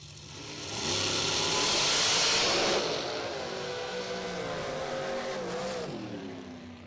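A drag racing car launches hard down the strip, its engine building to a loud, roaring surge, then carrying on as a sustained rising drone through the gears with no voices.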